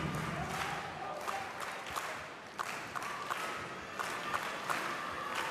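Fans in a volleyball arena at a Serbia versus Russia men's Nations League match in 2019 cheer and applaud as a dense, steady crowd roar with bursts of clapping.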